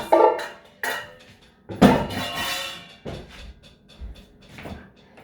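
Pie filling is mixed in a big bowl in a home kitchen, with sharp clanks and knocks of a utensil against the bowl, several separate hits spread out over a few seconds, close by and with no talking.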